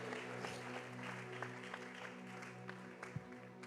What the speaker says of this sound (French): On peut acclamer très fort et on va commencer